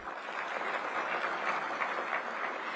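An audience applauds at a public event in Delhi, a steady, dense wash of clapping heard at a distance and fairly faint, with no one speaking over it.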